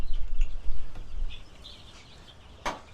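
Freedom Ranger chicks about two and a half weeks old chirp in a brooder, with faint scattered peeps over a low rumble and one sharper call near the end.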